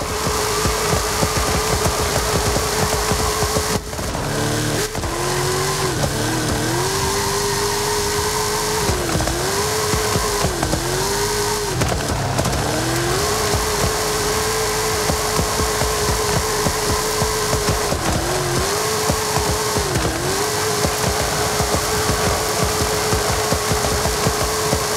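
Large drift car engine in a video game, a loud steady roar pulling away in third gear, with repeated dips and surges in revs as the throttle is worked.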